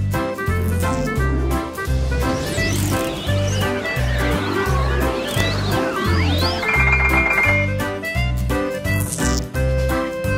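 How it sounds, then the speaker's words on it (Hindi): A horse whinnies in rising and falling cries over a loud, rhythmic musical backing, without any clear sound of hooves. "चल मेरे घोड़े टिक टिक टिक।"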